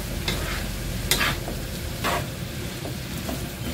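Mixed vegetables and onion fry in a pan with a constant close sizzle, punctuated by a few bright scraping strokes as a utensil stirs them around.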